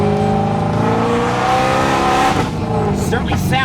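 A Liberty Walk Ferrari F430 with a very loud exhaust revs hard while accelerating, a close, loud, rising engine howl with a quick gear shift near the end, and someone talking over it.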